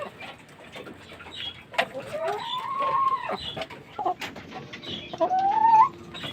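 Kanaway stag rooster with two hens, giving clucks and short crowing calls at close range, with rising drawn-out notes among irregular farmyard chatter and some background noise.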